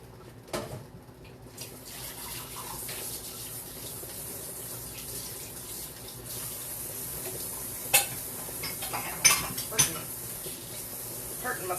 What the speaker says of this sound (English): so let's do wash my bowl